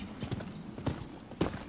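Quiet, close hoofbeats of a horse in the game Rise of the Ronin, clip-clopping at a slow walking pace, a handful of soft hollow knocks in an uneven rhythm.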